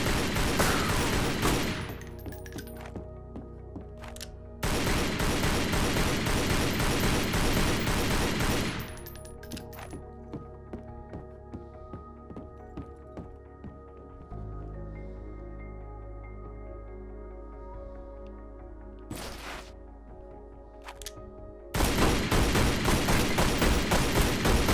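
Bursts of rapid gunfire from the video game Relic Hunter, shots hammering at a wall in loud sustained volleys of several seconds each, separated by quieter stretches of game ambience and scattered single shots.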